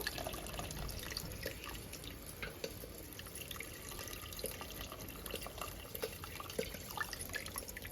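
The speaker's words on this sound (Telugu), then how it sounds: "ఇప్పుడు చింత పులుసు వేసుకుంటుండీ మీరు తినేదాన్ని బట్టి చూసి వేసుకోండి చింతపులుసు" Tamarind juice being poured into a pot of fish curry, a faint continuous liquid trickle with light drips and small splashes, heard alone at low level.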